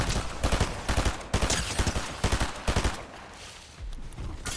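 An AI enemy in the Fortnite game opens fire in fairly quiet, repeated bursts of rapid gunshots, a few seconds long with short gaps between.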